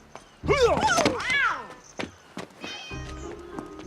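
A cat meows twice in loud, close, drawn-out rising and falling cries, followed by a few soft thumps and light movement.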